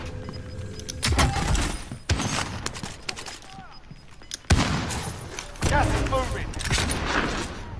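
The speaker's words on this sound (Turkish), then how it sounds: "Oha, adam roket salladı." In Call of Duty Warzone, loud blasts and bursts of gunfire hit in several sharp, heavy bangs, one of them a rocket being fired, amid chaotic combat noise, with voices talking in between.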